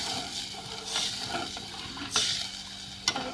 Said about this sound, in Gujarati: છાશમાં મસાલા તૈયાર કરેલા હતા તે હવે નાખી અંદર નાખી દઈશ